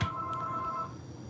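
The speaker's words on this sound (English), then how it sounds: "that phone is ringing at lunch break" Telephone ringing during a lunch break at a dental workspace, a single faint electronic ring lasting under a second, heard at a distance and then fading into quiet room tone.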